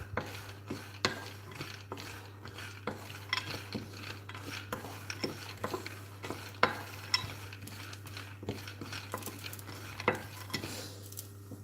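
Peanuts frying in a hot pan, stirred continuously with a utensil that scrapes and clicks against the metal in a steady uneven rhythm over a low sizzle and a constant background hum.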